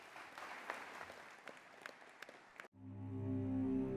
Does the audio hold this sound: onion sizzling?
no